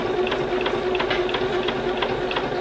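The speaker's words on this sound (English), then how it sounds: "You can just stretch it out and just hold it there and sew." Sewing machine stitching stretched knit beanie fabric, a steady close mechanical whir with a fast repeating needle rhythm running unbroken throughout.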